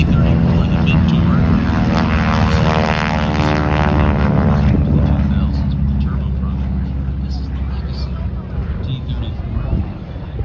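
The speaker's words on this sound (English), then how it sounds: "Yeah, the T-34, the Mentor." A T-34 Mentor propeller trainer drones loudly at a military airshow, its steady buzzing engine tone fading gradually as it moves off, with a commentator talking over it.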